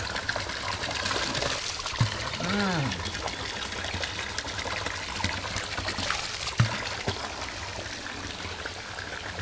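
Water trickles and splashes steadily from a trail fountain on a running route, a continuous near stream with a brief murmured voice over it.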